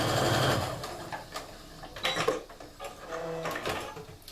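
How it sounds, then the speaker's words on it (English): Home sewing machine stitching a seam on quilting fabric strip sets: bursts of fast mechanical whirring and needle chatter, stopping and restarting in short runs, close and moderately loud with no talk. "now I'm going to go ahead and sew the rest of the way"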